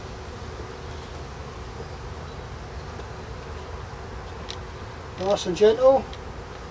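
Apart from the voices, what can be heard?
honey bees buzzing in a hive during inspection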